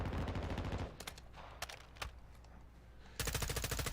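Rapid automatic gunfire from a video game weapon with heavy recoil, dense loud bursts at the start and again at the end, separated by a quieter gap with a few single shots.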